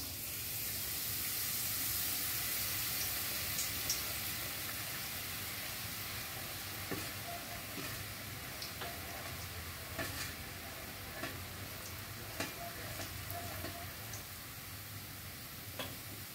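Boondi batter poured through a sieve into hot oil, sizzling and frying steadily over a low flame with a constant hiss and small crackles, and no voices.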